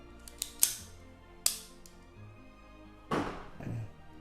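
Sharp mechanical clicks from the trigger dry-firing on an unloaded Melior 6.35 ACP pocket pistol, two crisp snaps early on followed by softer handling rustle, close and quiet with no talk.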